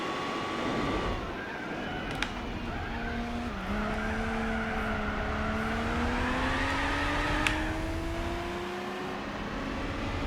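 A racing car in Gran Turismo 4 idles and pulls at low revs with a gruff, V8-like engine note that sweeps slowly up and down, with brief tire squeals and skids during the run.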